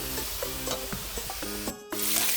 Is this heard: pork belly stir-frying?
yes